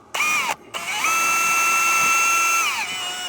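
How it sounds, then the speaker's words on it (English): A power drill whirs loudly at steady high speed drilling a hole in a roof, briefly pausing after a short burst, then running continuously for a few seconds before winding down. "I'm just gonna go in the middle of the bay and drill a hole"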